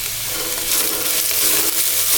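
Cabbage and onion sautéing for vegetable noodles, a dense steady hiss of frying with faint stirring, loud and close, uninterrupted by talk.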